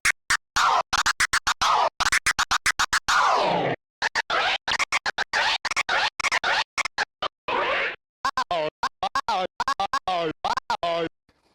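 Rapid choppy bursts of a track stuttering on and off from DJ cue-button scratching, with stabbing repeated cuts and pitch sweeps, loud and close.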